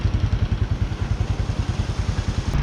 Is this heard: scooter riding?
yes